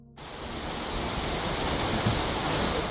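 Heavy rain pours steadily in Lagos during the rainy season, a dense, even roar of drops on surfaces that holds constant throughout after a brief quiet start, with no voices.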